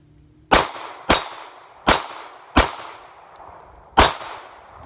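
Five sharp .380 pistol shots from a Glock 42 ring off a steel target outdoors, each crack followed by a metallic clang and short decay, spaced roughly half a second to a second apart, loud and close.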